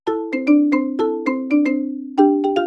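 Phone ringtone playing during an outgoing call: a clear, loud melodic sequence of bright plucked tones repeating in a bouncy rhythm, heard alone without any voices.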